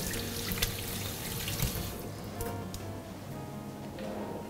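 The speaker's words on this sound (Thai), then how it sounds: "ล้างมือแป๊บ" Hands being washed under a running kitchen tap, steady splashing water for about two seconds, then it eases to a softer trickle and drips.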